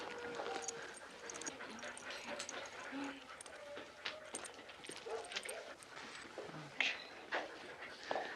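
A giant schnauzer whimpers and pants in short, soft bursts against a quiet indoor background, with faint scuffling and brief sharper cries toward the end.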